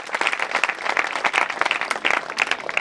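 Dense audience applause at a school farewell and convocation ceremony, steady and loud from start to finish with no voices over it.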